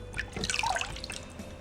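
Water dripping and trickling from a toy lifted out of a water tub, a short flurry of small, quick, close splashy drips over a faint background hiss.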